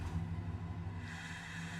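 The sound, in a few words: welder truck engine in Farming Simulator 25 video game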